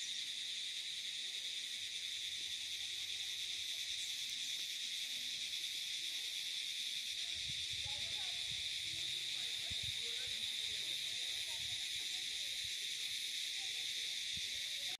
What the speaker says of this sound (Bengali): এই পাইন বনে ঝিঝি পোকার ডাকটা জাস্ট শোনো